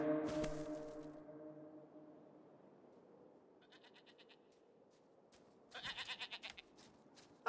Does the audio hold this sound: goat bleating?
yes